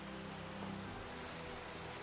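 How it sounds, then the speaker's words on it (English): Rain falls in Minecraft as a steady, dense hiss, even and unbroken throughout, with no voices over it. "Oh, and it's raining."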